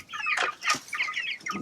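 Chickens cluck and chatter close by on a working chicken farm, several birds overlapping in quick bursts with short pauses, fairly loud, with no talk over them.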